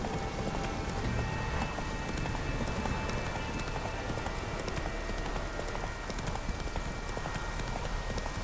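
Geralt's horse Roach gallops in The Witcher 3: Wild Hunt on Skellige, a fast, steady clip-clop of hooves under a constant wash of background noise, close and sustained throughout.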